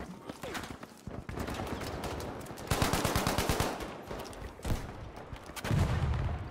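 Rapid automatic gunfire from a Battlefield 5 weapon, tight repeated bursts of shots close up, with other battle noise around and a player talking over it.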